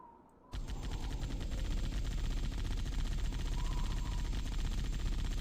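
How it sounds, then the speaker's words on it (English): Sustained rapid fire from an anti-aircraft gun turret in Halo: Combat Evolved, a dense continuous loud barrage starting abruptly after a half-second pause and running steadily to the end. "now I'm jumping out here to take the gunner's seat"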